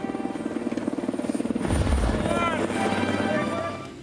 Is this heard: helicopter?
yes